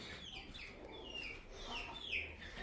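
Chickens in a backyard coop cluck and squawk in short repeated bursts, fairly close and clear, with a few higher calls over a low background.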